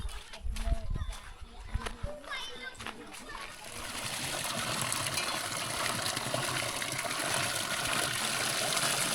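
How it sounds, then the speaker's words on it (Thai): Mountain spring water trickles and splashes steadily, growing fuller after a few seconds, while voices talk and call out nearby over the flow. "น้ำรินจากภูเขา"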